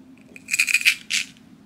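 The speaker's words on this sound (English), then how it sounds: "you make lots of shaking noises when you write" A UV resin shaker pen in Christmas colors rattles as it is shaken, a few quick clicky bursts of loose pieces tumbling inside, close and fairly soft.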